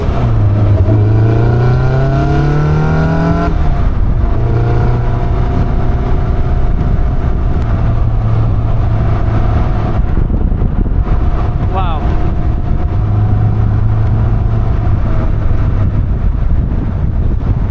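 A Caterham 340S sports car engine revs up and down through gear changes, rising and falling strained tones recurring, with heavy wind buffeting and road roar throughout at close range.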